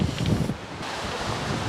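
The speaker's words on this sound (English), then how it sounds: "it's gotten a little bit more windy and cloudy" Strong wind gusts across a coastal overlook at Jusangjeolli on Jeju Island, buffeting the microphone with a steady, roaring rush and a few heavier low thumps early on.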